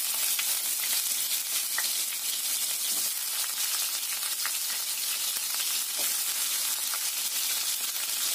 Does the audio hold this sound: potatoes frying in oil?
yes